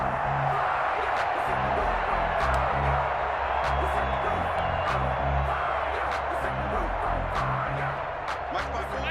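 Simulated stadium crowd in Madden NFL 21 during a Bills versus Falcons game, a steady roar of cheering and scattered whoops beneath continuous play-by-play commentary.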